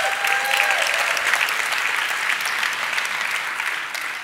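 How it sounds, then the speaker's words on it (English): Steady applause from a conference audience, many hands clapping together at an even level for a few seconds, with no voices on top. "So if you guys could all give the organizers a round of applause."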